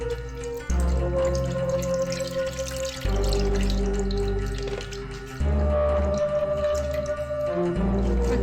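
Pani puri pulp water is strained through a strainer, giving a steady gurgling, splashing flow with a few shifts in pitch as the liquid pours and drips through, close and alone.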